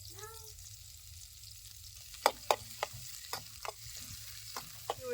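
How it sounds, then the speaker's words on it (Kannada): Thickly sliced onions frying in hot oil in a pan for a dhaba-style chicken masala curry, a steady low sizzle broken by several sharp stirring scrapes and clacks of a spoon, close by with no talk. "ಉಳ್ಳಾಗಡ್ಡಿ ಒಂದು ಸ್ವಲ್ಪ ಹಸಿ ವಾಸಿ ಹೋಗಂಗ ಫ್ರೈ ಮಾಡ್ಕೊಬೇಕು ರೀ"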